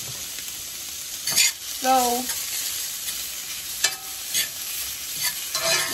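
Pieces of Eckrich beef sausage frying in a pan with a little water, a steady close sizzle broken by scraping stirs and clunks of the utensil against the pan. A voice says a single word.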